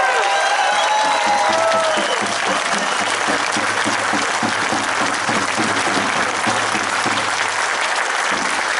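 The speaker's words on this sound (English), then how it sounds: "I'd like to give them a round of applause." Loud, dense applause from a big crowd at a union strike rally keeps going throughout, with a few whistles and cheers early on.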